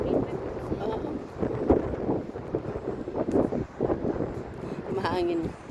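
Wind gusting over the microphone while friends walk outdoors, a steady low rumble under a mix of close voices and background chatter, with continuous buffeting throughout.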